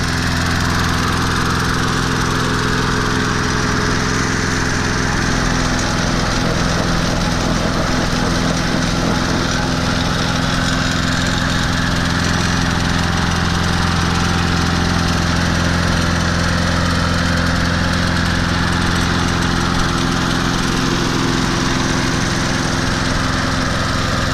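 A Snapper R21400 lawn mower with a 4.0 HP engine and carburetor issues runs continuously at close range. The engine drones loud and steady, with slight fluctuations in pitch and no talk.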